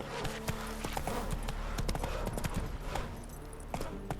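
Roach the horse gallops in The Witcher 3, with steady rapid clip-clop hoofbeats over a dense, continuous bed of game ambience and no talking.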